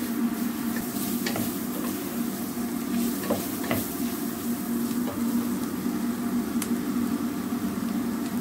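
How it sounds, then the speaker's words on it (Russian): Steady, loud sizzling of grated carrot frying in a pan with toasted flour, with occasional scraping stirs and crackles throughout. "Добавляем морковь."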